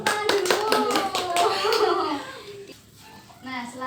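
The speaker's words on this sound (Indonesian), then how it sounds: "Tepuk tangan dulu" A group of people clapping together in a family finance training session, a burst of quick overlapping claps with a voice over them, fading out before a voice speaks again.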